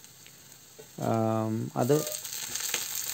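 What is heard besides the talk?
mustard seeds, shallots and curry leaves sizzling in oil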